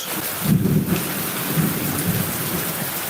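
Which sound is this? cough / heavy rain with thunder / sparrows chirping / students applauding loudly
heavy rain with thunder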